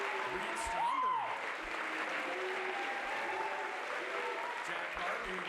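A graduation audience claps in a continuous, even wash of applause, with a brief shout early on and scattered voices beneath the clapping.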